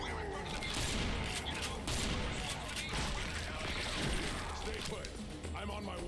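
Shotgun fire in the first-person shooter Serious Sam Fusion, punchy blasts amid a dense, continuous wash of game combat noise, loud throughout with no clear gaps.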